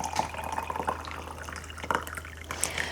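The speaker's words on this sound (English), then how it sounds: "we're going to top our beans with hot water" Hot water poured into jars of soaked black beans, a steady close splashing and trickling stream with small drips, heard alone without talk.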